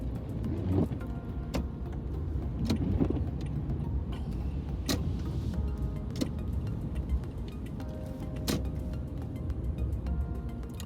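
A car drives through busy early-morning city streets in Brooklyn, New York, during a driving lesson on Rutland Road, with a steady low road rumble and scattered sharp clicks and rattles from inside the cabin.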